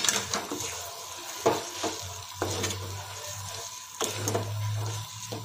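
A spoon scrapes and stirs fried dry fruits into sheera in a pan, with repeated scraping strokes over a soft continuous sizzle, close up and without speech.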